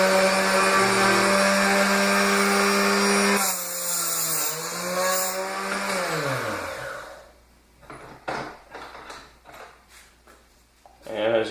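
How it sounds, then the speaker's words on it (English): A power tool whines loudly and steadily as it cuts the top off a .222 Remington brass case, the pitch sagging as it bites into the metal, then spinning down and going quiet, followed by a few clicks and handling sounds. "And as you can see, I've cut the top off."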